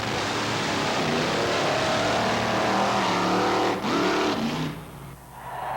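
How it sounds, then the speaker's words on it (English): A drag racing pickup truck with a big block Chevrolet engine revs hard during a burnout at a quarter-mile strip in 1986, a loud sustained roar that climbs, then drops away near the end. "A little wind-up motor in the back, really cranking it out to get this pickup truck down the quarter mile."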